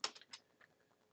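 A few light, close keystrokes on a computer keyboard, one sharp press followed by softer clicks, heard alone in a quiet room.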